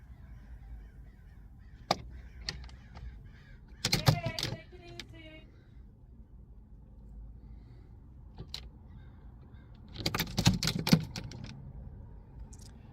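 A bird, crow-like, caws in two short raspy bursts a few seconds apart, set against a quiet background with faint scattered clicks.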